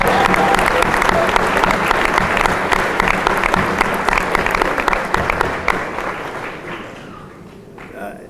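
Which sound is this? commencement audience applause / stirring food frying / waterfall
commencement audience applause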